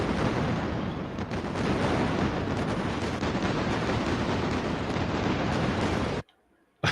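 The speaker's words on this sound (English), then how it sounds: "They're shooting at us now." Enemy gunfire in a video game, a dense, continuous rattle of shots and blasts that runs loud for about six seconds and then cuts off abruptly.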